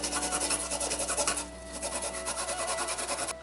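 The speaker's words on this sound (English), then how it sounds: "we're going to grate about a thumb size, like that, look, piece of ginger" A thumb-sized piece of ginger is rubbed across a grater in quick, even back-and-forth rasping strokes, close and steady throughout.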